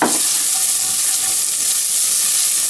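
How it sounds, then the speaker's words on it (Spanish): Celery, carrot, garlic and shallot browning in fat in a pan, giving a steady, close, even sizzle and hiss that holds without pause. "el apio, la zanahoria, el ajo y el echalot. Ok. Lo vamos a dorar un poquito."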